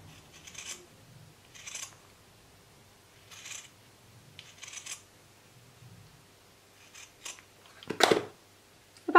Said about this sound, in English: So all I need to do is cut out some tiny pieces this time.